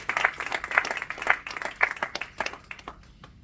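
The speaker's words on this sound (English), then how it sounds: "Yes, I think that deserves a round of applause." A small audience claps for a former Diamond of the Year at a mentoring event, with scattered, uneven hand claps that rise and fall in a few quick bursts before thinning out.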